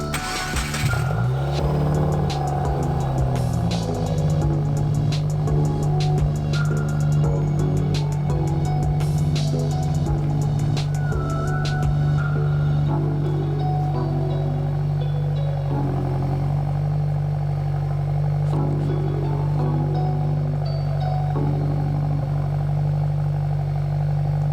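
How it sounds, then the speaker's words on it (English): A Subaru WRX with a Faction Fab axle-back quad-tip exhaust cold-starts and settles into a loud, steady idle with a deep, throbbing exhaust note and light mechanical clatter, close by and sustained without talk. "He's just gonna do a cold start to make sure that there's no exhaust leaks."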